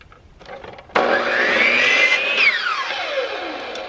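Power saw cutting through a long piece of scrap wood: the motor starts abruptly, holds a loud close whining cut for about two seconds, then pitch drops as it spins down.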